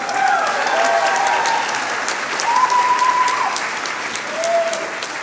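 Audience applause for the graduating class at a midyear completion celebration, a dense, continuous roar of clapping from a large crowd with faint cheers and whoops rising at moments.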